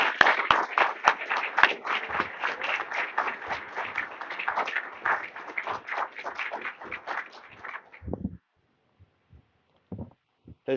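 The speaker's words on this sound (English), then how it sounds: "So I'm inviting you with applause to welcome the President" An audience at a conference breaks into sustained applause to welcome a president, dense clapping for about eight seconds before dying away to a few scattered claps.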